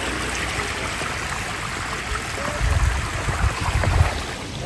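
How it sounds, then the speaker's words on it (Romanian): Water runs along a stream in Madeira, a steady soft trickle and gurgle with a few louder low rumbles midway through, heard close by with no talking. "Ce frumos curge apa pe aici."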